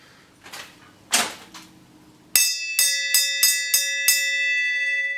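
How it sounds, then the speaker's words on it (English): A few dull knocks and clatters in a workshop are followed by a bell struck about six times in quick succession. Its bright, ringing tones overlap and linger, loud and close. "Alright, ring the bell, bud."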